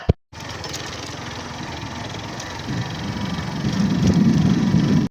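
A motorbike engine starts up and runs as riders set off, a steady close mid-pitched rumble that grows slightly louder and rougher toward the end, with no talking.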